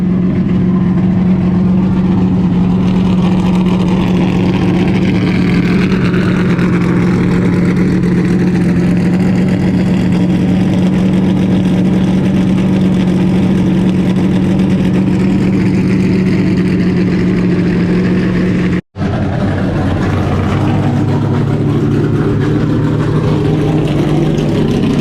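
A vintage NASCAR stock car with a Ford FR9 engine runs loud and close for about twenty seconds, its steady rumbling drone shifting as it revs, then cuts out abruptly before the engine sound returns briefly.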